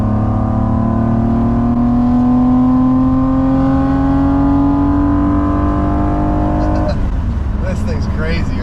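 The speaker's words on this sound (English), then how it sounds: "The induction howl that this thing has is just like second to none." A BMW E28 with a swapped M30B35 inline-six on individual throttle bodies revs hard, its loud, rising induction howl climbing steadily before cutting off sharply near the end as a voice begins talking.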